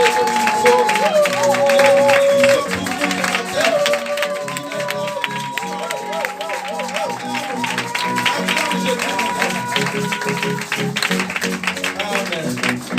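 Church congregation applauding and acclaiming during a service, a dense continuous wash of clapping and crowd voices heard together with sustained musical tones throughout, fairly loud and steady.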